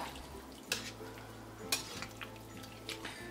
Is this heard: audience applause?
no